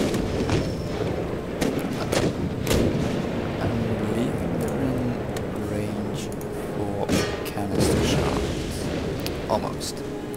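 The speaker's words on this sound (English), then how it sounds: "Come on, fire your canister shots." Cannons firing canister shot in an Empire: Total War battle, a string of booming reports and crackling volleys spread over a rumbling battlefield din, with a voice talking over it.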